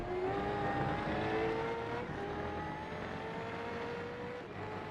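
V8 Supercar engine noise in a racing video game, a steady loud engine drone with rising gear-by-gear pitch sweeps as the car accelerates, continuous with no speech.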